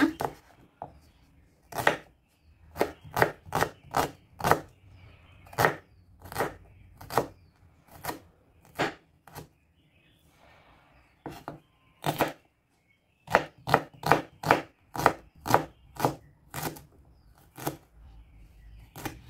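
An onion chopped with a knife on a cutting board, sharp regular knocks in quick bursts separated by short pauses, close and distinct with no talking over them.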